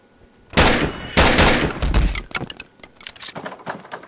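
Gunshots in the video game Grey: two loud, close bursts of fire in quick succession, followed by a ragged string of quieter rattling shots and clatter as they trail off.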